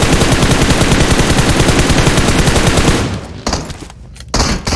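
Rapid automatic gunfire in the PUBG Mobile video game, a loud continuous burst of closely spaced shots for about three seconds, then a few scattered shots and brief quiet.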